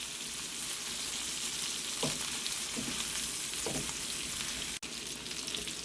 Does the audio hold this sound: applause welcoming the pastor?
no